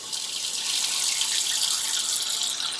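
Tap water runs steadily into a stopped bathroom sink, a continuous close splashing hiss with no voices, while a makeup sponge is about to be washed.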